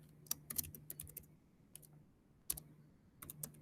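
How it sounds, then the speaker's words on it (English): Quiet, close typing on a computer keyboard comes in short bursts of rapid key clicks separated by brief pauses, over a faint low hum. "So I'm going to type in"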